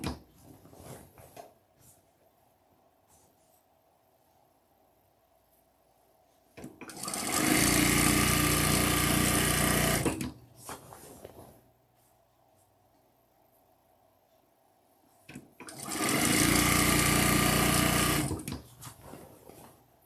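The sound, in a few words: sewing machine stitching fabric strips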